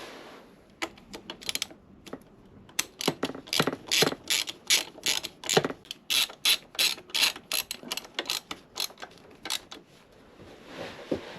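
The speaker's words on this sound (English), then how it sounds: "they will just screw right in" A ratchet clicks as screws are driven into a bracket on a KTM 1290 Super Adventure S motorcycle, with short sharp ticking bursts repeated in a quick rhythm, close and clear, and no talking.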